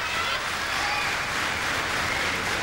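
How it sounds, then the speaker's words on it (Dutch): Steady, dense applause from a large audience at a 1998 world strongest team strongman competition, a continuous wash of clapping that stays loud and even throughout without a break. "Het publiek loopt hier helemaal warm"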